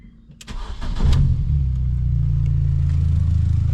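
A race-prepped car's engine cranks briefly with a few sharp clicks, then catches and settles into a steady, close, rumbling idle with no talking.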